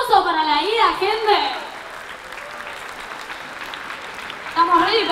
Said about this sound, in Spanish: ¡Aplauso para la ida, gente!